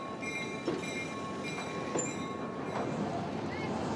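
A moving freight train carrying migrants: a steady rolling rumble of wagons with faint metallic squeals, tonal ringing and periodic clacks, continuous and moderately loud.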